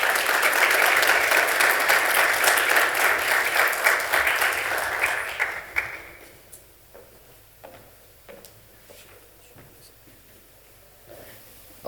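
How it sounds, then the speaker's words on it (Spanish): Audience applause welcoming a speaker to an engineering conference panel on AI and personalized medicine, a dense steady clapping that fades out over several seconds, leaving scattered handling clicks and faint room noise. "Lo dejo entonces con Gloria Enríquez, a quien recibimos con un fuerte y caluroso aplauso."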